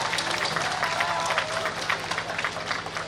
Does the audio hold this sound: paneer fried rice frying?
no